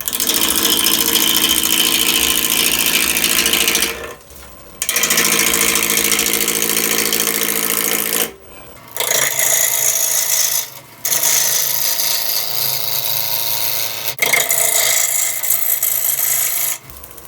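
A wood lathe spins a spalted apple bowl as a gouge cuts, making a loud, continuous rasping hum that stops abruptly several times between passes.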